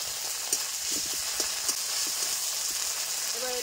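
Cumin paste sizzling as it hits hot oil in a pan for a kofta curry: a steady, close hiss of frying with a few soft stirring taps, and no talking.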